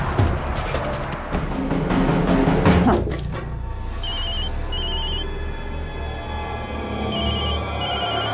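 A mobile phone rings in repeated short electronic chirp bursts, moderately loud, following a few heavy thuds and clatter at the start, in an Indian crime drama scene.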